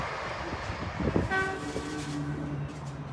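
A Lumo passenger train runs fast through with a rising rumble and a short two-tone horn toot in the middle, followed by a sustained tonal hum as it passes nearby.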